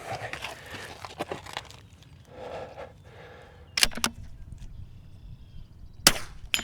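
Rimfire rifle shots at a practice target, two sharp cracks a couple of seconds apart over quiet outdoor background with faint rustling.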